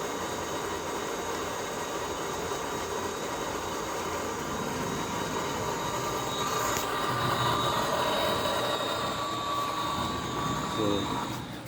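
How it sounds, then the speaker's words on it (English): A 4-inch continuous column effluent controller pump runs with a steady, loud mechanical drone and hum throughout, with a faint squeal and a short burst of gurgling toward the end. "you hear the pump"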